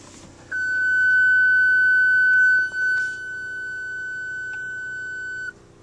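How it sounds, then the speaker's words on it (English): A car's parking sensor system, disabled by a faulty sensor, emits one steady, loud tone while reversing, holding for about five seconds with a brief dip partway through before cutting off. "That solid beep is an indication telling me that it has disabled the system, the parking sensor system, because one of them is not working."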